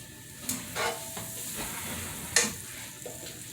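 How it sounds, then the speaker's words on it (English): Butter sizzles in a hot frying pan on a stove set around 350 degrees, a steady close crackle with a few louder spitting bursts. "I'm going to add just some butter to this"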